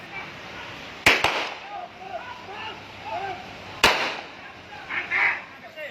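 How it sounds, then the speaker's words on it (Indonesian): Sharp police gunshots crack out during a pursuit of a car-robbery fugitive, two in quick succession and another a few seconds later, over a background of muffled voices. "Suara tembakan terdengar berulang kali."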